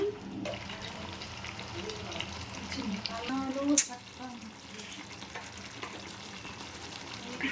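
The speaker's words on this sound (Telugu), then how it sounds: "సో కొబ్బరి బాగా ఆయిల్లో బాగా ఫ్రై అయింది" Coconut paste fries in oil in a pan for a chicken liver mango curry, giving a steady, moderate sizzle throughout with a brief louder clatter near the middle, while a person talks over it.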